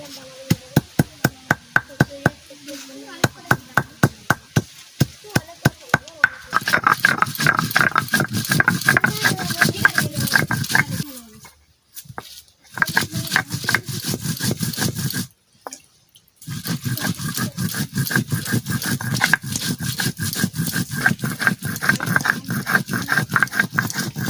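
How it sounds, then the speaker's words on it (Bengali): Dried red chillies are ground into a paste, with a steady run of rhythmic grinding strokes repeating quickly and loudly. The grinding stops briefly twice before starting again. "শুকনো লঙ্কা বেটে নেব।"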